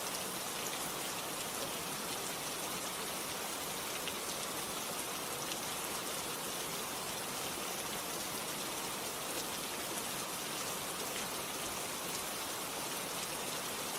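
Steady rain falls in a constant, even hiss of dense drops, soft and unbroken, with no voices or other sounds.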